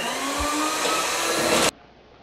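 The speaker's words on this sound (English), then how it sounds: "You put your mixer in and you crank it up to 11." An electric mixer whips meringue for a lemon meringue pie at high speed, a loud steady whirring drone that cuts off abruptly near the end, leaving a quiet room.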